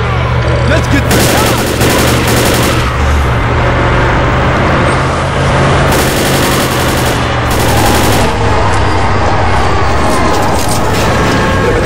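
Dense, continuous gunfire in Left 4 Dead's Blood Harvest campaign, loud rapid automatic bursts and shots layered over game noise with little let-up across the whole stretch.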